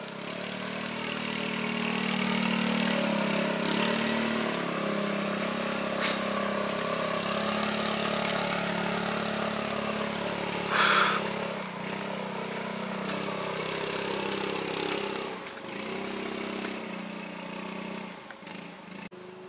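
A motorcycle engine labors up a steep, winding hill road toward Curug Ngebul in Pagelaran, Cianjur, a steady strained drone that holds near and moderately loud, dipping briefly near the end.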